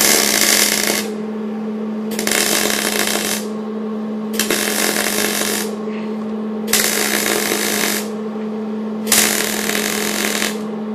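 MIG welding on a steel loft bed frame: roughly four bursts of harsh, crackling arc noise, each lasting one to two seconds with short pauses between, over a steady low electrical hum. Loud and close, no talking.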